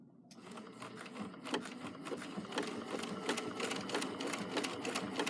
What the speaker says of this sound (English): With the machine and buttonhole setting, it's going to sew down one side